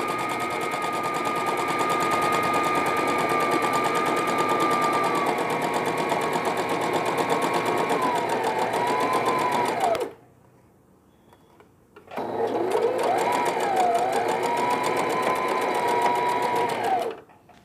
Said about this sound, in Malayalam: ഫസ്റ്റ് സൈഡ് സ്റ്റിച്ച് ചെയ്യുക.